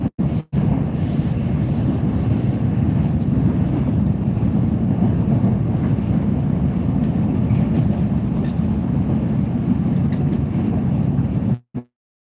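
Ride inside a moving train in Russia, a continuous dense low rumble and rattle holding steady for about eleven seconds before cutting off abruptly.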